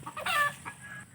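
Chickens cluck and squawk close by in a short burst of overlapping fowl calls, one louder cackle standing out, with no talking over them.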